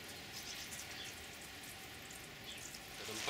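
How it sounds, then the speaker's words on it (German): A low-flow watering can gently sprinkles a freshly seeded greenhouse bed, giving a soft, even shower-like hiss that stays faint and steady, with a slight swell at the end and no talking. "So, leicht angießen das Ganze"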